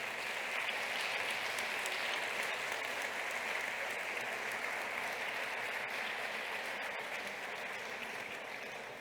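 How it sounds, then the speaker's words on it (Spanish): An audience at a healthcare conference applauds to welcome a speaker to the stage, with dense, steady clapping from a crowd that continues evenly and fades slightly toward the end. "Eu peço-vos uma enorme salva de palmas para chamarmos ao palco Carlos Umaña."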